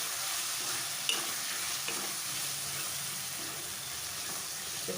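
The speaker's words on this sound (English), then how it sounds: "Stir it very well." Spices with turmeric powder being stirred in a frying pan for mutton curry, a continuous hiss of sizzling oil with a couple of faint scraping clinks of the spoon, close and steady.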